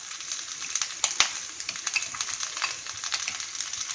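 Okra and onion sizzle in hot oil in a pan, with a steady bright crackle and scattered pops and spatters, close and moderately loud throughout, with no voices.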